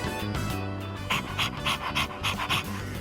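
Dog panting in Persona 3 Reload: quick rhythmic breathy huffs, about eight in a row, over steady background game music.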